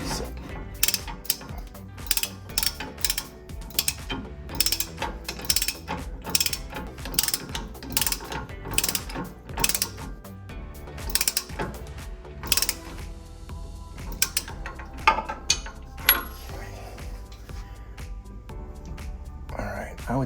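On a 2015-2020 Ford F150 rear lowering kit, a bolt is tightened by hand with a ratchet, giving quick bursts of clicking pawl ratchets separated by pauses, close and fairly quiet, with soft talk in between.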